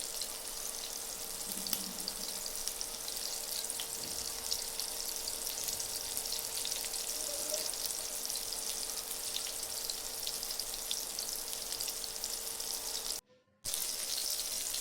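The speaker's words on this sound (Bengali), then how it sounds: "এখন আমি মাছগুলো ভেজে নিব।" Pangas fish pieces frying in oil give a steady, quiet sizzle and hiss that runs unbroken for a long stretch, broken only by a brief silence near the end.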